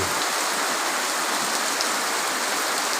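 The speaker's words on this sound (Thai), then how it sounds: "ฝนก็ลงมาอีกรอบหนึ่งครับ" Steady rain falls on a Buddhist temple compound at Wat Pong Chai in Chae Hom, Lampang, a dense even hiss of drops on surfaces lasting throughout with no voices.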